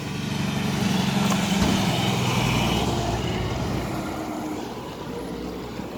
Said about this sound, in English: Sorry, walking through traffic.